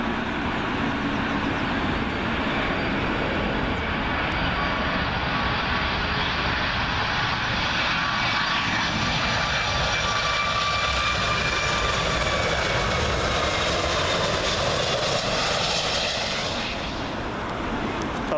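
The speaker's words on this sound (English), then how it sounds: "Next up in the 80 years of aviation livery, Icelandic Air 757." An Icelandair Boeing 757 jet at Heathrow thunders past in a sustained, loud engine roar with a thin whine on top, steady throughout and tapering near the close.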